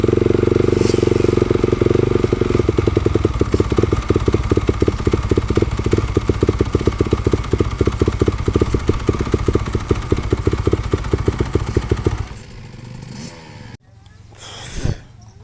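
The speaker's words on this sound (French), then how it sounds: "j'ai démarré la moto" A motocross motorcycle engine, just started, runs loud and close with a rough, rapidly pulsing idle, then cuts out abruptly, leaving quieter background sounds and a brief burst near the end.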